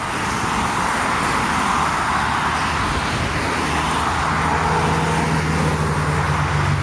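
Busy road traffic streams past on Station Road near Bannockburn, Scotland, a constant loud roar of cars and heavier vehicles close by, with a low engine hum building toward the end and no talking.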